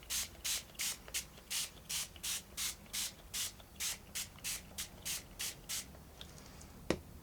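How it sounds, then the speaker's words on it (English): Repeated bursts of brown paint sprayed onto paper for faux leather, about sixteen short even hisses in steady rhythm, close and fairly loud, ending with a brief sharp click. "All right, we have the brown one. We're gonna spray it."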